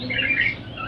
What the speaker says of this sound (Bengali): বাসা বানানোর জন্য বাসাতে বসে ডাকতেছে ছেলে পাখিটি